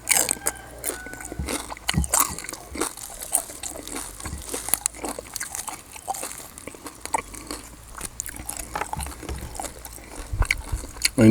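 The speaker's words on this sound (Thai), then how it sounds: "ลุงว้วนกินแต่หนัง กรอบพี่น้องเน" Crispy suckling pig skin being bitten and chewed up close, a dense run of crackly crunches and snaps with uneven rhythm and a few faint background noises.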